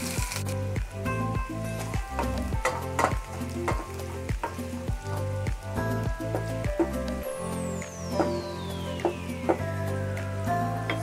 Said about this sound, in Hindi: 4 से 5 टेबल स्पून मैंने कढ़ाई में तेल ले लिया है। इसमें ऐड कर देंगे प्याज